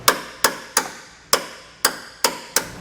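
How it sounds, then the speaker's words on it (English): A hammer taps a punch to pop a weld nut off the frame during a Curt custom base plate install on a 2014 Honda CR-V, seven sharp metallic strikes at a steady, slightly uneven pace, close and alone. "We're going to take a hammer and tap it until that weld nut pops off."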